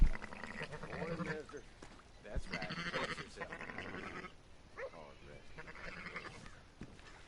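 Sheep bleating in the Red Dead Redemption II video game, several wavering calls scattered across the clip, fairly close, mixed with game ambience and a voice talking.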